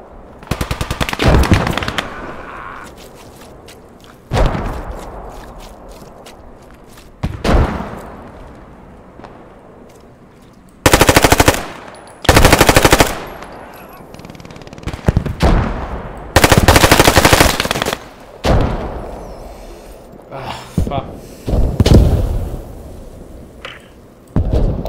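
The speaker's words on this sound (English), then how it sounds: "This MG in the hotel shooting towards south." A machine gun fires from inside a hotel in the WWII shooter Post Scriptum, loud bursts of rapid automatic fire repeating in several separated volleys, with longer sustained strings near the middle and fainter distant shots between.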